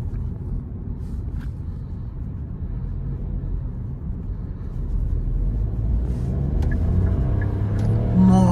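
Hyundai HB20S Comfort TGDI turbo car engine accelerating from inside the cabin, a low rumbling drone that builds steadily louder toward the end, with no talk.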